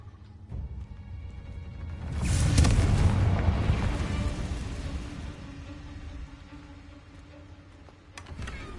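A Confringo blasting spell explodes in Hogwarts Legacy, a deep rumbling boom that swells and rolls on for several seconds before fading into lower game ambience, with a sharp impact near the end.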